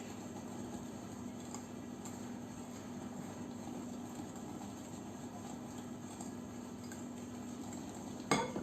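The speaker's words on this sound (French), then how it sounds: "Je remue." Sugar is stirred into a melted brookie mixture in a bowl, giving a faint, steady scraping swish with light utensil clinks and a louder knock at the very end.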